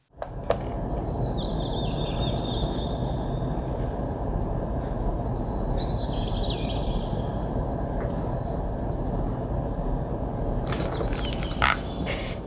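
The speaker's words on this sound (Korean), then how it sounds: "비 오는 날의 새소리 들으면서 마무리하겠습니다" Birds chirp in short, high bursts over a steady, heavy wash of rain that fills the whole background.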